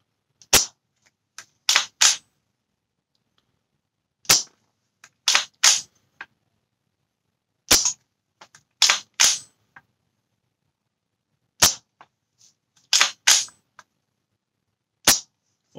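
A KC-02 CO2 airsoft rifle fires shots with sharp, loud cracks, each followed closely by the clacking of its bolt action being cycled, repeated in spaced groups with quiet pauses between.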